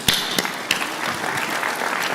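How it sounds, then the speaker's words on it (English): Audience applause at the FS Expo live event, a crowd clapping steadily in a brief burst with a few sharp, louder claps near the start. "we should give Callum an extra round of applause"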